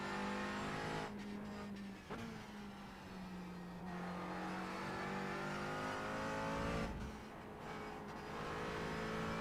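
A McLaren race car at Hockenheim in the iRacing sim racing game holds a quiet, steady engine drone that shifts pitch with throttle, with brief breaks as gears change and the car powers out of corners.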